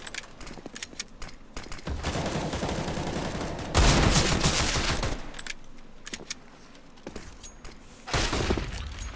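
Bursts of rifle and pistol fire in a Counter-Strike: Global Offensive esports match between FM eSports and 5Frags, with loud dense volleys around the middle and again near the end, and quieter shots in between.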